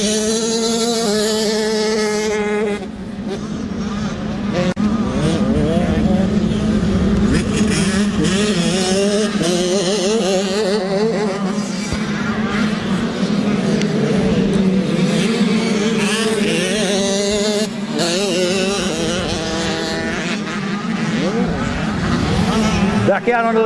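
Loud 85cc motocross bikes in a 12-15 class race at Dargle scream past on the track, engines revving and shifting one after another, with a race commentator talking over the constant roar.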